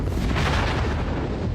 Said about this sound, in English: they short circuit with a tremendous explosion